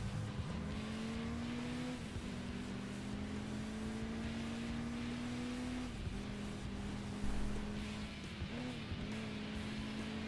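Racing car engines in the video game Crash Time, a sustained steady engine drone with gear-shift dips every few seconds, loud and continuous with road noise and occasional tire sounds.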